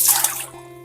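Dirty water drains off soaked paddy rice in a brief, close splashing trickle that fades within a second, with no voices.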